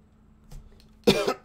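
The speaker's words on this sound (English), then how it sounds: "The coughing. I'm coughing." After a quiet stretch with a faint rustle, a single sharp, close cough bursts out near the end.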